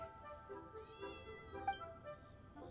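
A cat meows during a livestream of the game Genshin Impact, drawn out and fairly quiet, with several harmonic tones over low background sound.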